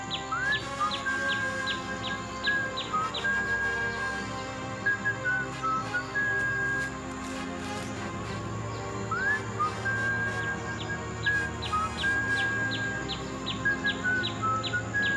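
A high, clear whistled tune repeats in short phrases over a steady background hum, with rapid chirpy notes accompanying it.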